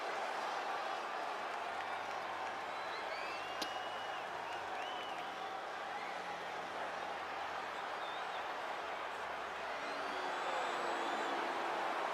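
A distant wrestling arena crowd murmurs and roars in a steady wash, a blend of boos and cheers rolling continuously beneath faint occasional shouts, heard from afar at low level.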